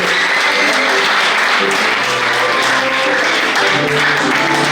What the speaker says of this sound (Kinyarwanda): Reka dukomere imana yacu amashyi menshi cyane.